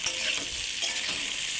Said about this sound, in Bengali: এই দেখুন পটল আর আলুটা আমার ভালো করে ভাজা ভাজা হয়ে গেছে।